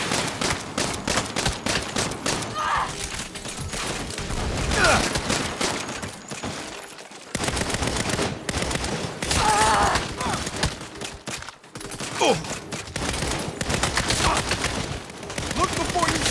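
Dense, sustained gunfire fills a Saints Row firefight, rapid automatic bursts hammering almost without pause, loud and close, with a brief lull midway and other game sounds mixed underneath.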